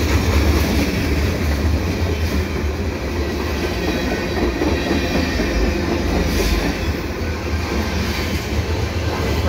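A CN freight train rolls by steadily and loudly at Dorval, with continuous rumbling and rhythmic clatter of wheels on the rails throughout.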